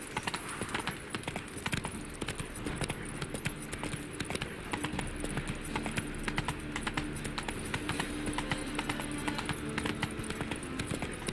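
Hooves of a horse clip-clop steadily in The Witcher 3 video game, a continuous brisk rhythm of close hoofbeats over a busy ambient game background.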